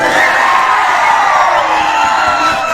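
An audience at a Bhagavati puja cultural programme in Bandapara cheers and whoops, a loud, dense roar of voices that fills the whole moment without pause.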